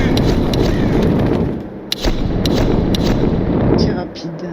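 Burst gunfire in Tomb Raider, heavy booming shots over a loud rumbling battle bed, with several sharp cracks standing out and a voice talking throughout.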